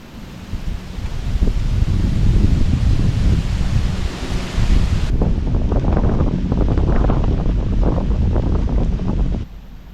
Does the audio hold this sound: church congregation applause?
no